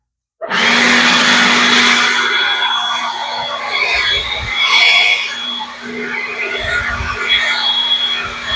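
A blower starts up abruptly and roars steadily close by, clearing loose stones off a driveway before sealcoating, its loud whooshing airflow holding for the full length with slight swells as it moves.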